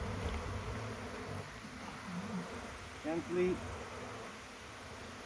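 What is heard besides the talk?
honey bees buzzing around a hive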